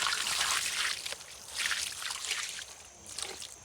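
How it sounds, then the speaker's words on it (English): Water is poured over an old dredge timber to rinse it, splashing and trickling in several close bursts with short pauses between, with no voices. "Let me rinse it a little bit."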